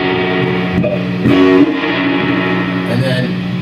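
Electric guitar played through a Bad Cat amplifier, its reverb tail ringing out and decaying steadily over a sustained distorted tone, with a brief louder swell near the middle.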